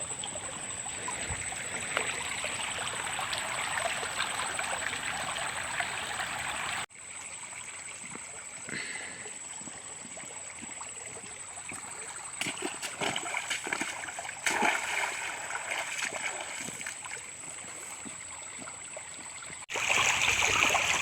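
Dug-up bonsai material being washed in a clear, fast river stream, with steady rushing water and intermittent splashing and splatter throughout, close by.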